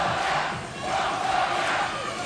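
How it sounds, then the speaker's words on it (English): A loud, roaring crowd cheers and shouts at a 3x3 basketball Olympic qualifying quarter-final, a continuous wall of noise that dips briefly and then swells again. "The crowd's too loud."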